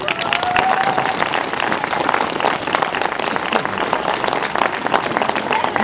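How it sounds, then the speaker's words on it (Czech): Steady audience applause at a community gathering by a castle, dense continuous clapping from a crowd filling the whole stretch, with faint voices mixed in. "Tak prosím o obrovský potlesk."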